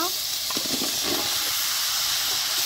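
Bottle gourd dropped into sizzling turmeric, chili and green chili spices in a pan for a pangas fish curry, a steady loud hiss with a brief burst of crackle as it lands.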